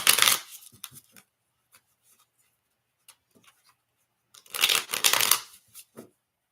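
Yin and Yang Oracle cards are shuffled in two close, crisp bursts of riffling at the start and again near the end, with sparse taps and card handling between and no talk.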